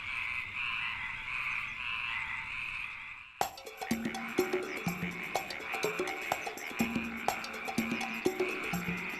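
Frogs croaking in a dramatized plague of frogs over Egypt, a dense chorus of rapid, overlapping croaks erupting abruptly after a calmer opening and continuing loud and close with no speech.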